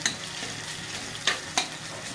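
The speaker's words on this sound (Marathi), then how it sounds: "हे लसूण अद्रक चेपून घेतलेलं आहे हे टाकून देऊ आपण याच्यामध्ये कांद्यामध्ये ते तळून निघतं चांगलं" Crushed garlic and ginger frying with onion in oil for a Maharashtrian chickpea dish, a steady close sizzle with a couple of sharp spoon clinks against the pan.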